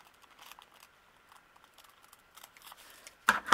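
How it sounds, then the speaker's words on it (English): Scissors cut through fabric along the neckline of a small wrap-style coat for a ball-jointed doll, with soft snips and rustles that end in a louder, sharp crisp burst of cutting close by. "And then cut on the neckline."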